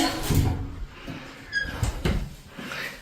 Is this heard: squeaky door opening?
yes